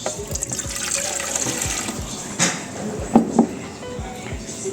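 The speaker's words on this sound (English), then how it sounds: "So first we're going to put the water in." Water is poured into a bowl for homemade pizza dough, a splashing, trickling stream with a few louder gushes, under soft background noise and a brief voice nearby.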